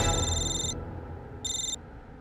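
A telephone bell rings in two bursts separated by a pause, clear and fairly close over a low indoor hum, with no talking.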